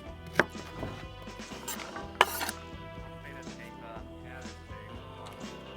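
A knife chops carrot on a cutting board, two crisp sharp strikes standing out among softer irregular taps and light clatter, close and clear.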